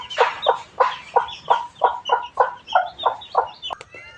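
A chicken sitting indoors clucks in a regular run of about a dozen close, evenly spaced calls, clear and alone, ending in a brief higher squawk.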